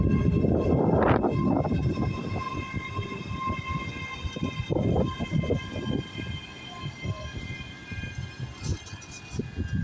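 A delayed ScotRail Intercity service from Aberdeen to Glasgow Queen Street pulls into Stirling station, with a steady low rumble of wheels and engine throughout and a brief louder burst near the start, no talk over it.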